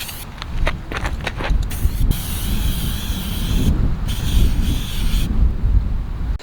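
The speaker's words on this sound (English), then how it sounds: "Put it along the crown of each filter pleat, holding nozzle about 3 inches away." Aerosol cleaner sprayed along the pleats of a car air filter, a steady close hiss with a few short bursts and pauses, running the whole time without talk.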